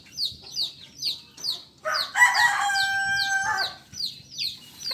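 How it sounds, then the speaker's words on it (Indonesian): Small Japanese bantam chickens cluck in quick repeated bursts close by, and a rooster lets out a high, drawn-out crow partway through. "Ayam kateknya."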